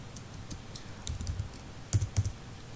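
Code is typed on a computer keyboard, short bursts of soft key clicks with a few louder clustered strokes, close and alone with no voices.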